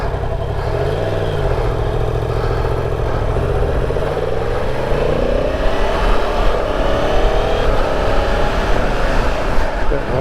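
A 2022 Yamaha MT-10 motorcycle on a test ride heading toward the freeway, its engine droning steadily under wind noise, with pitch rising and falling as it accelerates through the gears.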